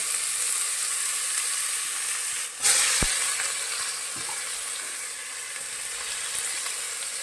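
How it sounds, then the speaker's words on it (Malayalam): Onions fry in hot oil with cardamom, cinnamon and cloves for prawn biryani, a close continuous sizzle with a brief louder burst as something hits the pan, then steady crackling hiss. "സവാള വേഗം ഒന്ന് വഴന്നാവാൻ കുറച്ച് ഉപ്പിട്ട"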